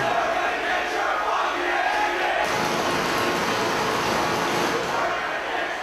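A large virtual arena crowd in WWE 2K23 chants loudly and continuously at a No Mercy pay-per-view event, a dense roar that swells and stays steady throughout.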